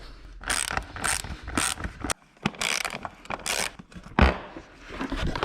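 Ratchet clicking in repeated bursts while fairing bolts are backed out of a wrecked 2022 BMW S1000RR in a workshop, close and crisp, with short pauses and a metallic knock between bursts.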